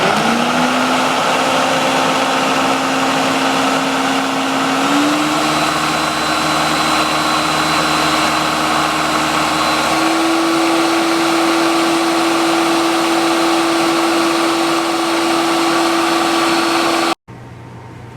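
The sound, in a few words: blender pureeing fresh garden peas and mint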